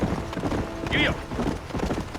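Horse hooves clip-clop at a steady trot in the Western video game Red Dead Redemption, heard close under a short burst of speech, with a brief whinny-like squeal in the middle.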